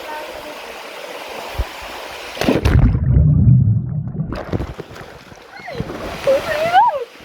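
Loud splash of people jumping into a river, a burst of churning water lasting about two seconds, followed by excited voices and a whoop; talk is heard before and after.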